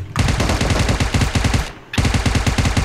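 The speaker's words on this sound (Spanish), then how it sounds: "¿De dónde me disparan" Rapid automatic gunfire in PUBG Mobile, two loud sustained bursts of fast shots separated by a brief pause, close and dominant with no talk over it.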